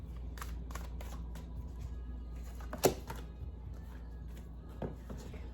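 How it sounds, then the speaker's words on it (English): A single riffle shuffle of a tarot deck gives a quick burst of papery card flicks, with one sharp snap near the middle. A few softer handling clicks and rustles sit over a steady low background hum, and nobody speaks. "So we're going to do one shuffle and then pull off the top."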